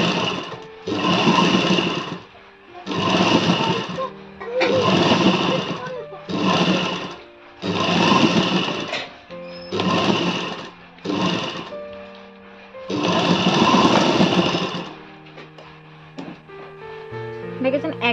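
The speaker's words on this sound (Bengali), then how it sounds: "এবার দেখুন, আমি এর পর চাপ সেলাই দেবো।" A sewing machine stitches along the edge of a blouse in repeated bursts of fast whirring, each run lasting a second or two with pauses between, close and clear, while someone speaks between bursts.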